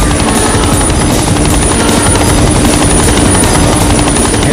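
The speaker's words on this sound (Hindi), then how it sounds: "हेलीकॉप्टर की आवाज से कहें वो तुम्हारी बहन को नुकसान न पहुंचाए।" Helicopter flying overhead in an action movie scene, a loud, steady rotor roar with rhythmic blade thumping that stays constant and close throughout, with no other sounds.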